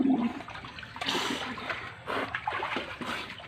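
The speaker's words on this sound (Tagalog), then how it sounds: "Naliligo po kami sa drum." Water splashing and sloshing as children bathe in a drum outdoors, with continuous splashes and pours close by and brief voices mixed in.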